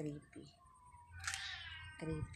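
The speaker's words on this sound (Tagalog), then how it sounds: "ganito yung sinasabi nilang medyo ang ingay ng pusa" A cat in a cemetery lets out a drawn-out, rising meow between bits of nearby talking, with a few short vocal sounds around it.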